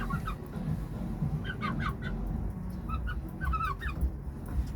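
Hens clucking and a Hint breed rooster's short calls, several birds chattering in bursts over a low background rumble, no talking.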